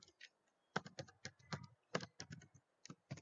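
Someone types a C program on a computer keyboard, giving close, quiet, irregular clicks of keystrokes in quick bursts with short pauses, heard on their own.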